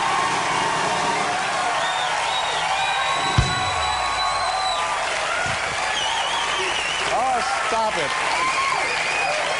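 A television studio audience at a late-night talk show's seventh anniversary special in 1989 applauds and cheers, a steady dense wash of clapping with brief voices and other studio sounds mixed in.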